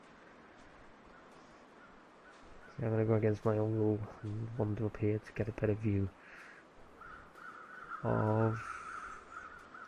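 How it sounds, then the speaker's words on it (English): Crows cawing in the video game The Long Dark, a faint harsh call or two in a quiet wilderness ambience, mostly buried under someone talking over the top. "or there's crows flying around"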